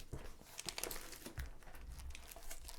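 A plastic folder handled up close, giving a continuous crackly crinkling and rustling that stays fairly even throughout.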